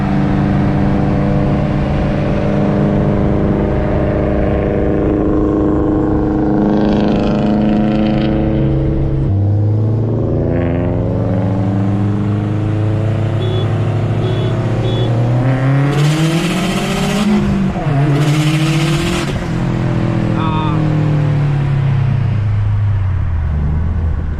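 A Stage 2 Subaru WRX or STI pulls hard in second gear from a roll, its engine loud and close as revs climb and fall through long sweeping surges, ending in a sharp high whine near the end.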